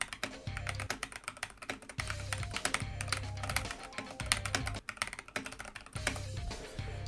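Fingers type on a Keychron C1 computer keyboard, producing quick, irregular runs of close, crisp key clicks with brief pauses between bursts and occasional heavier thumps.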